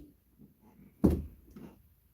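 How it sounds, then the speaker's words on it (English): An indoor door being shut with a single solid thump, preceded by faint shuffling and followed by a soft rattle, close and moderately loud, with no talk at that moment. "Shut the door"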